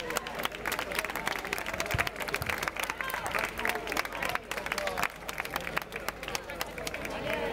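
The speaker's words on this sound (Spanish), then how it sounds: "un forte aplauso para eles" A crowd claps in a dense, steady patter at an outdoor village festival trophy ceremony for a card game tournament, with murmuring voices underneath.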